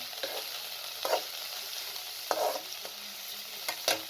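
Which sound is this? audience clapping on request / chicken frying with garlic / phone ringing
chicken frying with garlic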